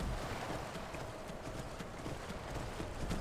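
Horse hooves clip-clop steadily on a path in the video game Skyrim, a continuous close rhythm under a constant wash of wind-like ambient noise, with no voices.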